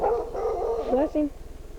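A small dog yaps and barks in a short burst at close range, with people talking around it.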